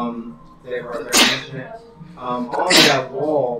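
Two sharp sneezes burst out about a second and a half apart during a livestreamed tabletop role-playing session, loud and close, with a voice talking before, between and after them.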